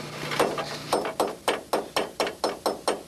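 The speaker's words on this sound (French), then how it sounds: "Je vais y mettre un petit coup de marteau." A hammer strikes a rusty, crooked bolt in a steady series of about ten sharp metallic taps, evenly spaced and close, with no speech.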